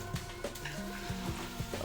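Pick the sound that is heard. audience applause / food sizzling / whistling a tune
food sizzling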